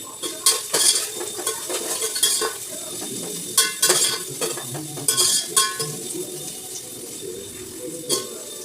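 Onions sauté for biryani in a sizzling pan. A spoon stirs them in irregular bursts of scraping and clinking against the metal, close and fairly loud, with no talk.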